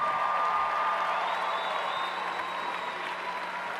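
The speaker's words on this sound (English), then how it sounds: "Let's give them a round of applause" At a Stony Point high school graduation, a large crowd applauds the graduating students in a broad, sustained roar of clapping that holds steady, heard from a distance in a big hall.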